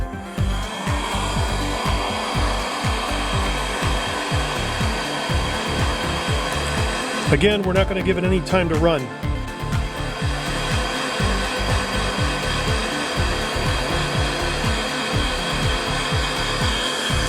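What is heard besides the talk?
heat gun blowing hot air on muffler epoxy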